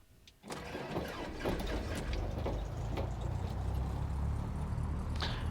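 A light aircraft engine starts up in the X-Plane 12 flight simulator game: a soft click, then the engine catches and settles into a steady, fairly quiet rumbling drone.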